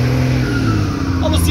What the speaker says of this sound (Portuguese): o Rogério tá numa alegria tão grande desse caminhão dele fazendo esse barulho